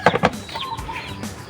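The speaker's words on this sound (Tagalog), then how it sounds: "may manok doon" Chickens on a backyard farm with Rhode Island Reds, giving a few short clucking calls near the start, then quieter scattered clucks and rustle.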